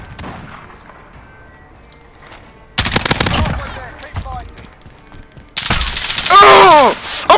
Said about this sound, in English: I was getting shot in the back, and I survived.